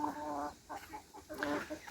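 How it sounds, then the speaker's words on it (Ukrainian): Chickens and roosters clucking on a farm, a continuous run of close, fairly loud clucks and throaty calls from several birds over a couple of seconds, with no talk. "Вийшло шість ось таких красивих півнів. П'ять білих, один ось такий мазаний гарний."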